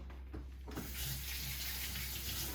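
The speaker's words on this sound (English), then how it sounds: "stick some dishwashing soap and warm water in there." Warm water runs steadily from a kitchen tap into a sink with dishwashing soap, a continuous hissing splash after a few faint clunks.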